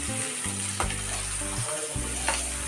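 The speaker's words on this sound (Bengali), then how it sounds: "ফুলকপি আলু ভাজা করে নিচ্ছি" Continuous loud sizzling of cauliflower and potatoes frying in hot oil, with a couple of brief stirring clinks, no voices.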